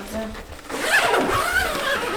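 Zipper on a zippered fabric storage organizer in a dressing room, one drawn-out zip pulled near and loud after a brief voice.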